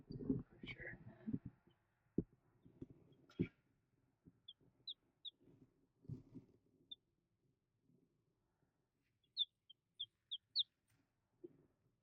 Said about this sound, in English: I mean, I know they're chickens. They're olive eggers.